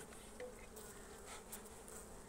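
Honey bees buzz in a steady, even drone at an Italian apiary beehive, with a few individual bees passing close for a moment.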